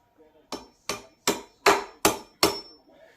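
Six sharp metallic taps of a hammer on a small punch driving a pedal rod out of an Inmotion V13 electric unicycle, evenly spaced, close and crisp with no talking.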